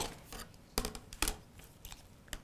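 Scissors snipping through fabric while trimming a pieced tulip quilt block: a few quiet, brief crisp cuts spaced apart, close and soft, with no talking.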